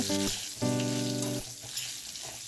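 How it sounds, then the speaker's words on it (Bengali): Four pieces of potato fry in mustard oil with salt and turmeric, giving a soft, continuous sizzle under steady background music tones. "চার পিস আলু নুন আর হলুদ দিয়ে একটু ব্রাউন করে ভেজে নিব"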